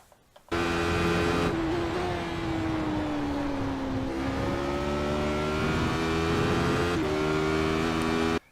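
A Radical SR8 race car engine on the Donington National circuit, heard from on board as a loud, sustained high-revving drone with the pitch sliding down and then climbing again through a corner, with a brief gear change midway.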